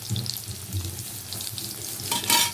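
Food frying in a pan in a home kitchen, with a soft continuous sizzle and a brief louder burst of hissing and clatter near the end.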